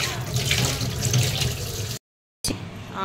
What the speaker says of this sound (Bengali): আচ্ছা চলো মাছটা ধুয়ে নিই